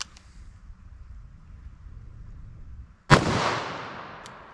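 A single sharp .38 Special +P+ FBI load shot from a 4-inch revolver barrel cracks out loudly after a quiet stretch of low background hum, followed by a long reverberant tail.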